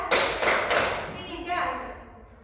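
Three sharp hand claps in a quick counted rhythm fill a classroom, then voices carry on speaking as the clapping fades.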